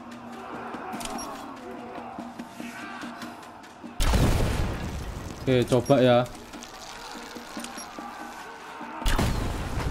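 Explosions in the video game Rise of the Tomb Raider, a loud broadband blast rumbling for several seconds followed later by a second burst, with someone speaking between them.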